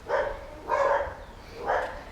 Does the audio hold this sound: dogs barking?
yes